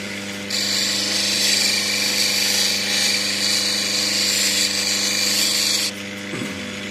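Rotary tool grinds rough natural Australian opal, a high steady whine held for about five seconds close by, then cutting off to a quieter motor hum, with no voices.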